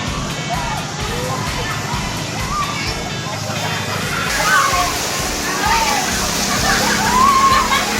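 Water gushes and sloshes out of a freshly flushed pipe after a day without supply, a continuous rushing splash that grows louder toward the end, with occasional voices in the background.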